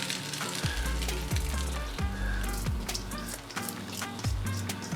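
Cornbread batter hits hot, just-browning butter in a pan with a loud, steady sizzle and crackle, joined by repeated low scraping or stirring sounds, close up and with no talking.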